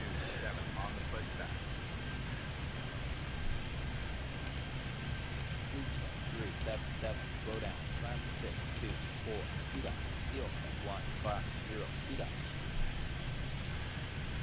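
Steady rain hisses in the video game Airport Madness 3D, a dense, even wash of falling water that holds at a constant level throughout, with someone talking quietly under it.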